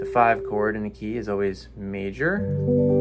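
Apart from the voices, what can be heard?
None of the usual background noises is heard.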